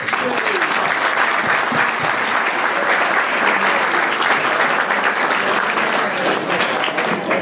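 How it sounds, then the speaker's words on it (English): Sustained, loud applause fills the room from an audience at a yacht racing club's awards night and holds steady throughout. "Big round of applause."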